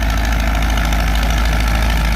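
Antique tractor engine running at a tractor pull in the 2500 to 3000 lb class, producing a loud, steady, rough mechanical roar with constant knocking vibration and no pause.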